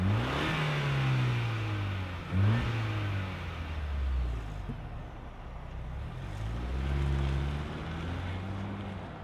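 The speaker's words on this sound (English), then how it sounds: "let's fire it up and hear what it sounds like." A 2025 Ford Bronco Big Bend 4x4 engine starts and idles with a deep rumble, then revs up and down several times, loud and close, with no talking.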